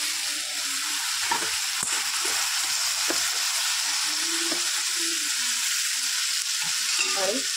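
Cluster beans, bottle gourd and green mung beans fry in a pan with a steady, close broadband sizzle, broken by occasional scraping stirs and faint clinks; no one speaks.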